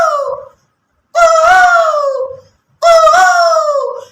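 A boy imitates a koel's monsoon call with his voice, giving three rising, wailing hoots separated by short pauses. The calls are close and loud, and there is no other sound.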